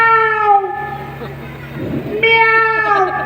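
A person imitates a cat's meow with their voice, giving two drawn-out, tonal meows separated by a short pause, loud and close.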